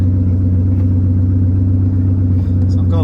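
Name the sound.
engine-swapped Aston Martin DB9 engine revving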